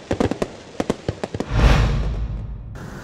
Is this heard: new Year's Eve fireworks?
yes